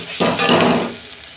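Softened tomato and onion fry in oil as Kashmiri chilli powder and turmeric are stirred in, giving a brief, loud burst of sizzling and stirring up close.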